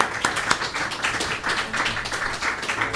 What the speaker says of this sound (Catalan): el Jaume Clotet, que li podem donar un fort aplaudiment, no?